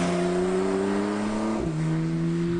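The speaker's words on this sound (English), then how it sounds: "pipes in intake noise from the plenum into the cabin" Engine intake noise from a 2017 Porsche 911 Carrera 4S, piped from the plenum into the cabin, as a steady droning hum that rises slowly in pitch, dips briefly at a shift, then settles again, with no talk.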